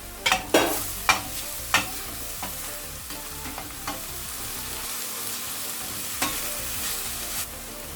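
Ginger, garlic and green chilli sautéing for veg kothu parotta, a continuous close sizzle punctuated by sharp spatula clacks against the pan, busiest at the start.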